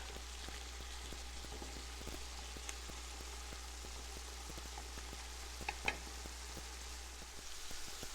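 Bacon frying in a pan over lowered heat, a continuous soft sizzle with frequent tiny crackling pops, close and steady, plus a low constant hum underneath and no voices.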